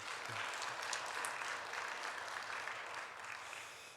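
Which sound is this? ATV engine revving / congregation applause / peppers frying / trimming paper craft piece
congregation applause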